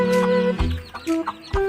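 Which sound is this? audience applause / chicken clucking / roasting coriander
chicken clucking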